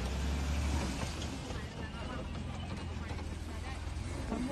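A Jeep Wrangler's engine drones low and steady during an extreme off-road climb, heavily buried under loud, continuous wind buffeting on the microphone.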